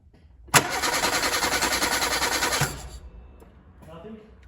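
A 1988 VW Golf MkII starter cranks the engine for about two seconds after the key is turned, a close, loud pulsing churn that cuts off without catching, followed by faint speech.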